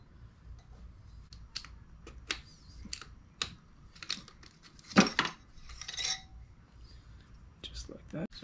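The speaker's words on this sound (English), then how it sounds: "Now we're gonna pull the ring off right there and then pull the piston right out" Sparse, faint metallic clicks and light clinks, close by, as a piston ring and then the piston are pulled from a Piranha YX 140 pitbike engine during a top-end rebuild, over quiet background hiss.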